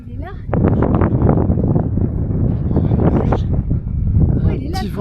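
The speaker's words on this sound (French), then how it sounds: "si vous entendez le bruit du vent" Gusty wind on a mountain pass, Col de Crous, buffets the microphone in low rumbling bursts while a person talks nearby.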